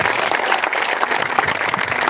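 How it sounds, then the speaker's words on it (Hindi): Dense, continuous applause from an audience at a nurses' protest rally, loud and steady for a couple of seconds with no voices over it. "तालियां रुकनी नहीं चाहिए"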